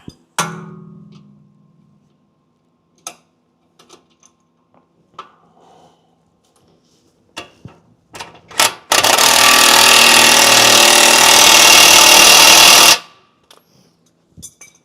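A hand wrench at work during a repair, with scattered clinks and taps of metal followed by a loud, steady mechanical whirring burst of about four seconds, close by and alone.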